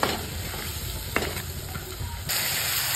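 Mutton being stirred and sautéed in a pan, a dense close sizzle with a few scraping stirs, growing slightly louder near the end.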